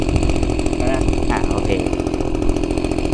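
A small engine-powered sprayer runs loudly nearby, a steady droning motor with rapid firing pulses, while a voice speaks briefly under the noise.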